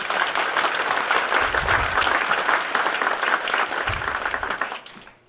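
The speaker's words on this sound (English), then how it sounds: "A little bit of applause for your candidates here" An audience at a 2015 Port Moody-Coquitlam federal candidates' debate gives a steady round of applause, dense clapping that holds before tapering off near the end.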